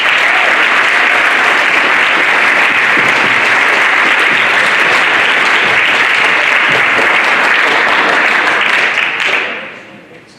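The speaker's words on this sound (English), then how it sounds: "So please give a round of applause to the parents and also the teachers." School assembly audience at an honors and awards ceremony claps loudly and continuously for parents and teachers, a full dense ovation that fades out at the end.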